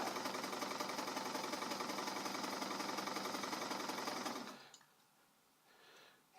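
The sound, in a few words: sewing machine running at full speed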